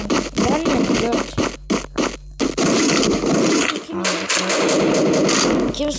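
Sharp, repeated gunshots from the mobile shooter Free Fire crack close and loud in quick irregular bursts, mixed with scraping handling noises, while a voice talks over parts of the action.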